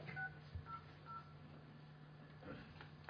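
Telephone keypad dialing tones from a phone, a few short separate beeps in quick succession early on, faint over a low steady hum, with no talk.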